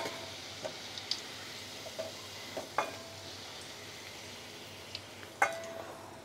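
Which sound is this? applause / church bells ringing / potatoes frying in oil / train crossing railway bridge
potatoes frying in oil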